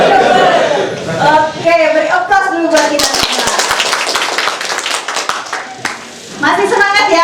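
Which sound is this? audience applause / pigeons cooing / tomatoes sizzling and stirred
audience applause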